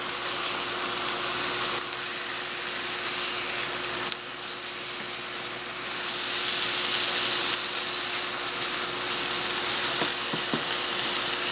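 Fish fillet frying in a hot pan for fish tacos, a steady close sizzle of spitting oil that runs unbroken throughout, with a few faint scraping clicks near the end.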